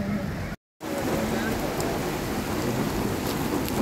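Dense, roaring patter of heavy monsoon-style rain drumming on a car roof, loud and close, broken by one brief cut to silence.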